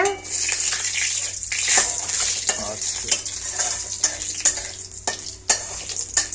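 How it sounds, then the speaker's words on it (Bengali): Jujube fruit with five-spice seeds sizzles steadily in hot oil for a homemade pickle, with a spoon stirring and scraping the pan in a repeating rhythm throughout. "এই তেলের মধ্যে কুল ছাড়লাম, পাঁচ ফোড়ন ফোড়ন দিলাম"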